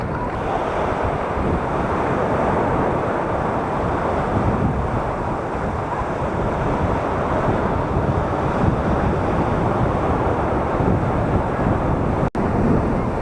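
Mediterranean sea waves at the Dalyan spit in Turkey roll and wash continuously, a loud, dense surf roar mixed with wind buffeting the microphone, with a brief dropout near the end.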